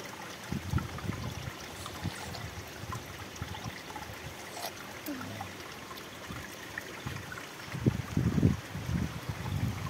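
A small mountain stream by a village trickles and burbles steadily at close range, with low rushing swells and a busier gush toward the end, no voices over it.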